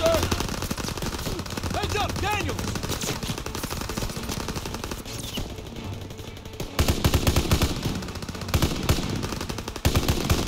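Rapid machine gun fire crackles in a WW2 video game, sustained bursts of sharp repeated shots that pause briefly and resume louder, with a voice talking over parts of it.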